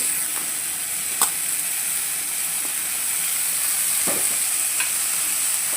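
Chopped carrot, potato and soya chunks sautéing in a pan, a continuous close sizzle broken by occasional sharp scrapes and clicks of a stirring spoon, with no voices.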